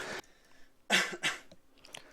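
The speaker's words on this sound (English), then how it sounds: "Let me clear my throat." A person clears their throat a couple of times in quick, rough bursts, close by and fairly quiet, with faint breathing around them.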